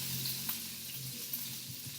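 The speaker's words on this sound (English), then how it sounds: "look at this bacon sizzling" Bacon sizzles steadily in a frying pan at breakfast, a dense continuous crackle with a few small pops, close and fairly quiet, no talking.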